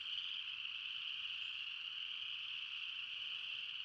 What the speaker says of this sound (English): Man, can y'all hear those frogs?